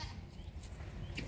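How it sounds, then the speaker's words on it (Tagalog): Farm goats bleat in a brief, noisy burst, one close call rising over a low, rumbling background. "Ang ingay ng mga goat, guys."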